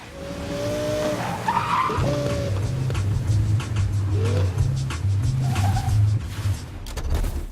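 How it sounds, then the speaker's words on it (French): Tires squeal and skid loudly as a car slides in a video game, with the engine droning and wavering underneath in a continuous stretch and no talking. "le bruit de cette bagnole est très particulier"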